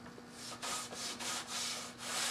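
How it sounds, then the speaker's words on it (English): Several quick back-and-forth strokes of a sanding block rubbing across wood, a steady scratchy rhythm close by. "Need a sanding block."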